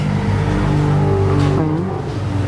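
A loud motorcycle engine roars steadily and close by, its pitch shifting as it goes past, with no voices over it.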